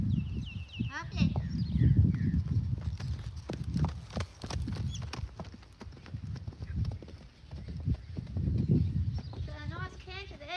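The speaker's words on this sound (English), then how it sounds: "Got a nice canter there." A horse canters, its hooves giving repeated rhythmic clip-clop thuds at moderate distance, while someone talks over the hoofbeats.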